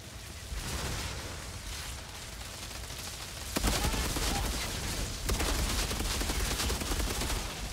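Gunfire and a grenade blast rattle through a firefight in the video game Outriders, with dense continuous shooting that jumps louder at about three and a half seconds and again near five, filling the whole stretch.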